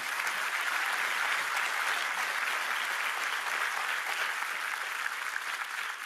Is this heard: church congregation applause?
yes